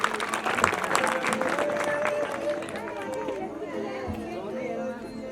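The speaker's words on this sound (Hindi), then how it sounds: "इनके लिए जोरदार तालियां।" Crowd at a school Republic Day celebration applauding a donor, dense clapping blended with audience chatter and a voice over it, fading slightly toward the end.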